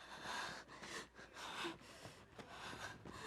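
A character in Monster Hunter Wilds breathes heavily, a series of rough, gasping inhales and exhales in an uneven rhythm, close and fairly quiet with no music or talk.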